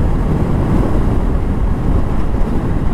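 Wind buffets a chin-mounted helmet camera on a Honda CBR650R motorcycle at speed, giving a steady, loud, close low roar with no breaks.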